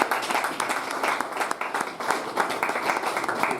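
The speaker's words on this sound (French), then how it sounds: "qu'on la remercie et qu'on l'applaudisse très très très fort" Loud, dense audience clapping at an entrepreneurship day event in Burkina Faso, many hands applauding steadily for the whole stretch without talk.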